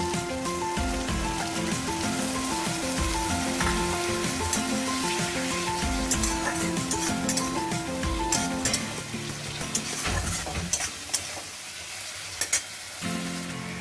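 Soaked cumin and chili powder hit frying potatoes and tomatoes in a pan, bursting into a loud, continuous crackling sizzle with occasional stirring clatter, settling slightly quieter toward the end; no voices.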